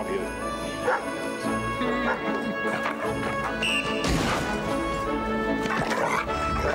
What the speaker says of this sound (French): C'est vrai que c'est un chien d'arrêt